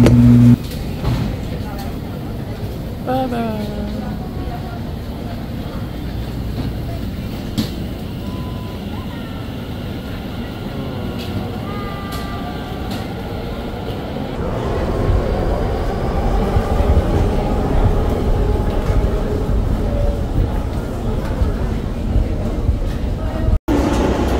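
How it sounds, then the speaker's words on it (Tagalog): Airport Express train in Taiwan heard from inside: a steady low rumble that grows louder and heavier partway through as the train gathers speed, with faint voices in the carriage. "Sa Airport Express train."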